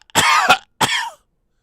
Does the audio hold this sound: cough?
yes